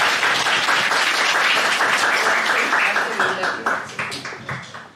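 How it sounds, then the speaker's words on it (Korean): Applause from the audience at a wine master class, loud and dense at first, then thinning into scattered separate claps as it fades out, with a voice briefly heard. "박수 좀 쳐주세요."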